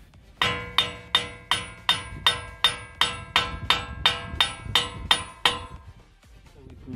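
A hammer taps a wheel bearing part, a steady run of about fourteen close, ringing metallic blows roughly every half second, then it stops.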